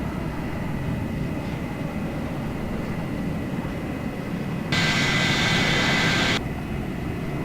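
A Lockheed F-104 Starfighter jet in a flight video game rolls for takeoff, its steady broadband engine roar holding throughout and then surging louder with a bright hiss for a couple of seconds before easing back.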